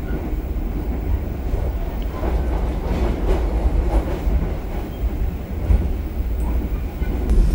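The KA Cakrabuana train on the Cirebon–Purwokerto line, heard from inside the dining car, gives a steady loud rumble with faint rhythmic clicking of wheels on rail joints throughout, and no talking.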